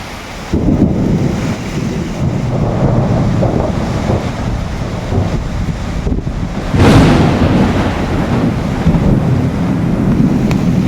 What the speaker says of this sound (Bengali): জোরে জোরে বিদ্যুৎ চমকাচ্ছে।